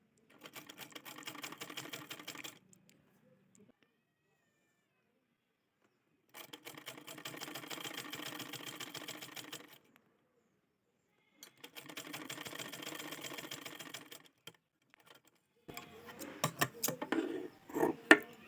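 Domestic sewing machine stitching piping strip onto a double-cup blouse, running in three steady bursts of a few seconds each with pauses between, followed by brief handling clatter of fabric and machine.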